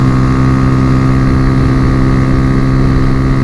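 Honda Fan 125 motorcycle engine running at about 100 km/h, a loud, continuous droning hum with steady tone and heavy wind rush throughout, no voices over it.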